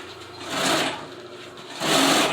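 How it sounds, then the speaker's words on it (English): A sewing machine lock stitches upholstery on an old Suburban car seat, a close, steady mechanical whirr that surges louder in two runs with a slower stretch between. "Make sure you always lock stitch your work, because you don't want it to come apart."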